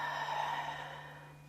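A single long, breathy exhale during a BOSU core workout, close and steady, fading gradually over a faint background hum.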